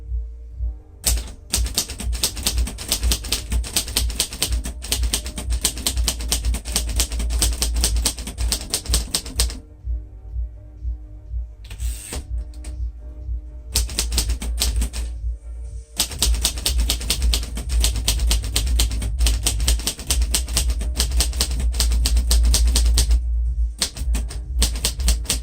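A 1947 Royal Quiet Deluxe typewriter is typed on steadily and close up, with rapid, crisp keystrokes in long runs. Short pauses and carriage-return breaks divide the runs.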